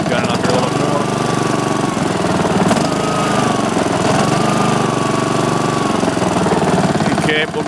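A Honda HRX217 walk-behind lawn mower engine runs loud and steady close by, revving higher with a continuous drone and rising whine throughout.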